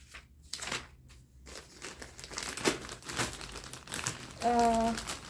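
Plastic wrapping on an unboxed parcel crinkles and rustles in short bursts close to the microphone, with a brief faint tone near the end.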